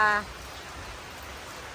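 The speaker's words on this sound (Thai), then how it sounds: "ฝนตกที่บ้านเด้อจ้าเด้อ ฝนตกจ้า" Rain falls at a home, a steady even hiss that fills the whole stretch, with a brief voice at the very start.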